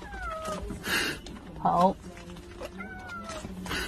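A house cat meows several times in short, plaintive calls spaced across a few seconds, close to the microphone, while a person speaks briefly between the cries.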